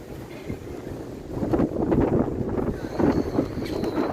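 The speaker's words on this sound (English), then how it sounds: "Holy shit, what a wind." Strong wind roars and buffets the microphone in heavy gusts on a London street with traffic, swelling louder midway through, with a low rumble underneath.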